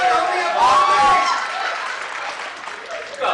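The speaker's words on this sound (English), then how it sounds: "Can we have a round of applause?" Audience at a silver wedding party applauds, a dense burst of clapping that swells then tapers over a few seconds, with a voice briefly audible over it.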